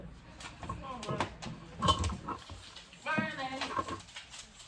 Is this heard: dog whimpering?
yes